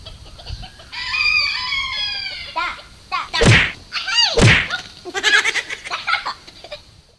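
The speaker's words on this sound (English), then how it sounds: "a chicken demonstration is taking place." Chickens cluck and squawk close by, a busy overlapping flurry of calls with a few sharper, louder cries standing out.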